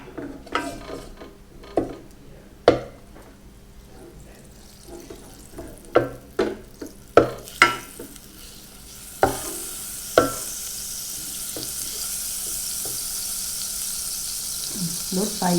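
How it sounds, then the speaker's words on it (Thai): Butter melting for popcorn in a pan over very low heat, with a soft steady sizzle that rises partway through, mixed with clinking and scraping of stirring and handling the pan, and a voice speaking at times. "เสร็จแล้วก็ตั้งให้เนยละลายก่อน"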